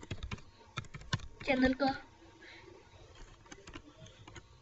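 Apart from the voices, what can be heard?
typing a name on a computer keyboard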